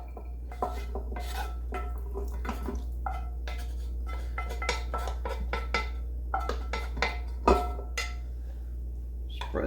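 Clinking utensil and pot sounds as rinsed, drained ground beef goes into a slow cooker, a string of close, sharp scrapes and taps over a steady low hum, no talking.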